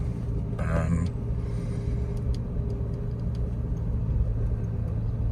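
A 1986 Jaguar XJ 5.3 V12 Sovereign drives along a coastal road, its engine giving a steady low rumble with road noise, a brief louder passing sound early on and light ticking sounds later.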